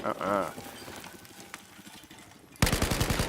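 Gunfire in an online 8v8 wartime shooter match: scattered shots with a brief whooshing effect early, then a rapid burst of automatic fire at the end, close and loud.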